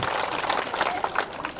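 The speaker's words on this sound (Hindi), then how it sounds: "तो थोड़ा ताली बजाओ आप सब लोगों" Crowd clapping at a BJP Lok Sabha election rally in Rajsamand, a dense, steady patter of many hands with a few voices mixed in throughout.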